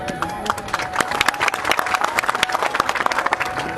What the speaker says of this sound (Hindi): ये ताली बजाने का विषय नहीं है।